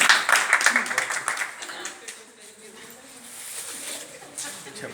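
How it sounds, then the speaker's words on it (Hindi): Brief burst of audience clapping at a Republic Day comedy program, sharp claps in the first second or so that fade into murmuring and room noise. "एक बार टोपी के लिए ताली बजा दीजिए।"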